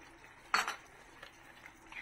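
A spoon clinks once against a pot while stirring chop suey, then soft scraping and light taps continue faintly.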